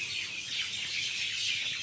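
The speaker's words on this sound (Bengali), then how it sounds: "পাখির কিচিরমিচির, কি সুন্দর শব্দ।" Birds chirp in village trees at dusk, a dense high twittering chorus that is continuous and moderately faint, with no voices.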